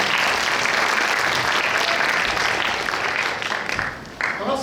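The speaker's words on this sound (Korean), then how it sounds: "큰 박수 부탁드립니다." An audience at a high school admissions information session claps steadily, a broad wash of applause that thins toward the end as a voice begins to come through.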